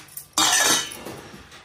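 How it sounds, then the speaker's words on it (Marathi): A lid set down on a pot of water heating on the stove lands with one sharp metallic clank, ringing briefly before fading into quiet kitchen background. "त्याच्यावर झाकून ठेवते म्हणजे लवकर उकळते."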